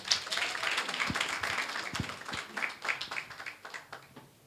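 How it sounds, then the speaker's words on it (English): Audience at a Young Women's Dialogue event applauding a speaker, light scattered clapping with a few sharper individual claps, moderately faint and thinning toward the end. "Let's give her a round of applause"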